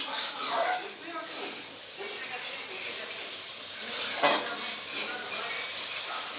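Vegetable biryani being stirred in a pot after kewra water is added: a steady close hiss with scattered scrapes and light clinks of a utensil against the pot.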